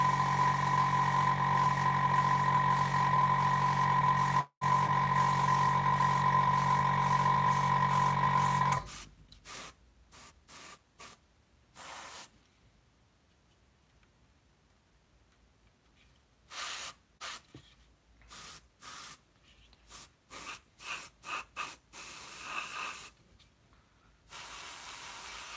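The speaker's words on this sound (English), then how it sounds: "we do not want to spray the brownish color over the gun barrel" An airbrush sprays brownish paint on a scale model hissing steadily for several seconds, then breaks into short on-off bursts with quiet gaps between them, close by.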